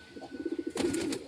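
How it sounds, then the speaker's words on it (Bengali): A newly brought pet pigeon coos up close in a quick run of soft, rhythmic throaty pulses, followed by a brief burst of rustling or flapping. "নতুন পায়রাটা সামনে দাঁড়িয়ে আছে, এটা ডাকছে এখনো"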